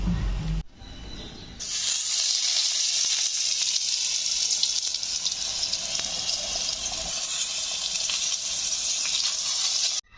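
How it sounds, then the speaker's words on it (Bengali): Eggplant slices fry in hot oil in a home kitchen, giving a steady bright sizzling hiss that starts after a brief pause and continues evenly at close range. "এটা হচ্ছে ঠাম্মার জন্য বেগুন ভাজা"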